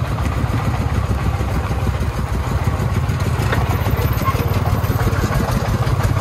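Large công nông farm truck hauling sand, its diesel engine chugging in a steady, rough, mid-pitched rhythm, close and loud with no letup.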